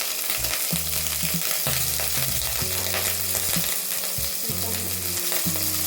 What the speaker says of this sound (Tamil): 1 ஸ்பூன் தேங்காய் எண்ணெய் ஊற்றிக்கலாமா?